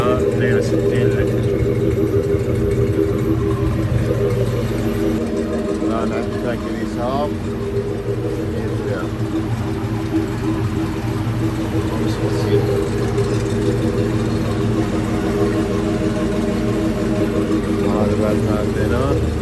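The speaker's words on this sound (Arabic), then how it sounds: "مشروع محرك 6 لتر موديل 2006" A 6.0-litre engine in a 2006 GMC truck runs steadily throughout, a low constant rumble with a faint idle throb, close by and fairly loud.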